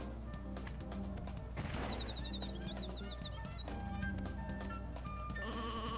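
A sheep bleats a few times in the video game Looney Tunes Sheep Raider, amid busy game sounds and a constant low drone, with bright electronic chimes around it.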